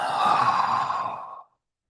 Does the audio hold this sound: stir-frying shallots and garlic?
no